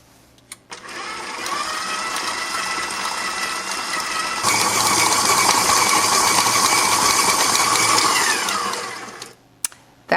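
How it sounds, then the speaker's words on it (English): A stand mixer beats butter and sugar at medium-high speed, a steady loud whirring drone that steps up in intensity midway and then winds down, with no talking. "beating the butter and sugar in the mixer on medium-high speed for about 2 minutes"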